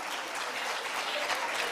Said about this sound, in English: So I think we all should give an applause.